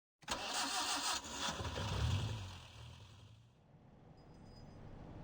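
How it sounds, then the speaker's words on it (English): A black taxi's engine in the video game Reverse: 1999 cranks and catches abruptly, then settles into a low rumbling idle that fades slightly, fairly quiet overall with a faint chime near the end. "The engine starts, turning into a rhythmic"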